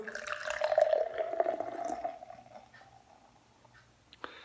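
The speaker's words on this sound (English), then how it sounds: "Let's give it my aggressive pour like I always do." Beer, an IPA, splashes and gurgles as it is poured aggressively into a glass, loud at first, then fading to soft fizzing.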